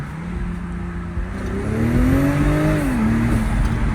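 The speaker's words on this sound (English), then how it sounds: "You can hear the turbos, but the exhaust sounds kind of whack." A BMW Z4 M40i turbo engine and exhaust rev up close, a rising droning tone that climbs, holds and dips over a steady rumbling roar.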